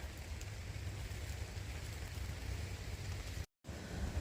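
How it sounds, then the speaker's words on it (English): Light drizzle falling in the woods on a mountainside along the Appalachian Trail in Pennsylvania, a faint steady hiss of fine rain with a brief dropout near the end and no talking. "Just drizzling, not pouring rain at all right now."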